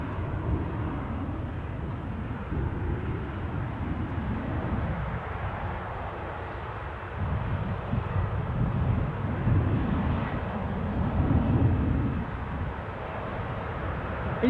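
Airplane trundling slowly across the apron at Newcastle airport just after its tug unclips, a steady low engine rumble and broadband roar holding fairly constant with slight swells, no voices.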